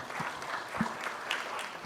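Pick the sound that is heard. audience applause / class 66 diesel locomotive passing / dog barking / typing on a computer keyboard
audience applause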